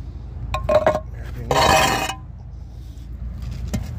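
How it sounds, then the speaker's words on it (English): A roof tile pulled out from a roof by hand, with hard clinking and scraping knocks followed by a gritty ceramic slide that lasts about half a second, close and fairly loud. "You just grab the tile, weasel it out."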